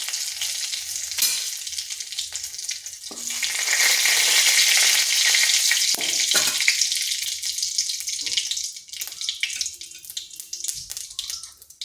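Whole cumin seeds and a dried red chilli hit hot oil and sizzle loudly at close range, the crackle swelling in the middle, with a few sharp clacks of utensils against the pan and no talking.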